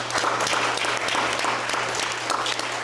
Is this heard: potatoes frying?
no